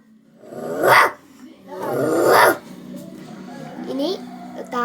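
A human voice imitates dogs fighting, performed as mimicry at a school arts festival, with two loud, rough bursts of snarling and barking, then a lower, drawn-out growl that trails off close to the listener.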